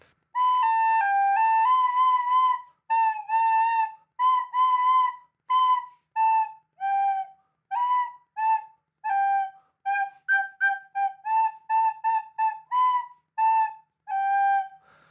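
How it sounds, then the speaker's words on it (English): A recorder plays the simple tunes Mary Had a Little Lamb and Hot Cross Buns without tonguing, so notes slur and blur together in a breathy, clear melody of short phrases and pauses, heard close and alone. "I'm going to give you guys a couple examples of how we play our songs that we've already learned, Mary Had a Little Lamb and Hot Cross Buns"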